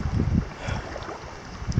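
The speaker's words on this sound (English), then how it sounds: "Sure hope that wind dies down for supper." Wind gusts buffet a lakeside campsite in the Boundary Waters on Tuscarora Lake, a steady rushing roar with low rumbling swells near the start and end, with no voices.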